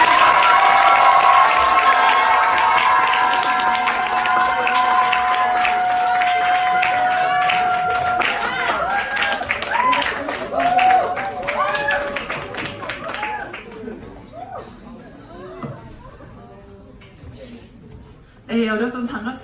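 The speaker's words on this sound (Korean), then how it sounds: "우리가 할 수 있는 가장 큰 환영의 박수로 환영하면서" Big welcoming applause and cheering from a high school lecture audience greeting a lawyer, loud and sustained with shouts at first, then thinning out and fading toward the end before a brief renewed burst.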